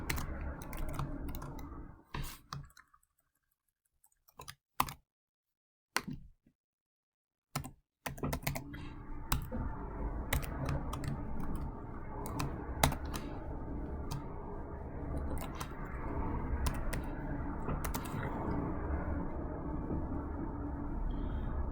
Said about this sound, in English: I'm definitely going to just put it in to Wolfram Alpha. So we're going to type this up.